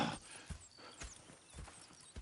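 Horses in the Red Dead Redemption 2 video game clop along at a steady walking rhythm with a whinny, heard faintly in the game's soundscape without speech.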